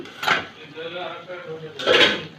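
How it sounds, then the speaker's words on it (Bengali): A lid being lifted off a cooking pot of bottle gourd and egg curry, two clattering metallic clanks bracketing a brief soft rattle, close and fairly loud, with no speech. "দশ মিনিট পরে ঢাকনা তুলে নিচ্ছি"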